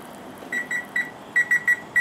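A kitchen timer timing boiling eggs beeps in short, high electronic pips, a few spaced apart and then a quicker run of four, fairly faint and close.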